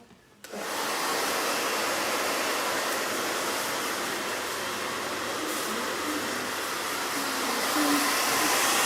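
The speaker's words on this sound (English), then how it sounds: "It's just blow dry, you know." A hair dryer blows short hair, switching on after a brief pause and then roaring as a loud, steady rush of air that continues to the end.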